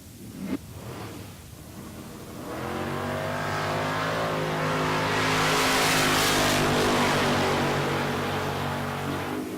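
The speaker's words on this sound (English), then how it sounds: "Jared Asbill dialed 649 in the first-gen Camaro, taking on Wyatt Ezel, the Nova, dialed 611." Drag racing cars, a first-gen Camaro and a Nova, launch at a Texas Motorplex bracket race: a brief idle, then a loud rising engine roar that builds and holds at full throttle, with a faint squeal of tires.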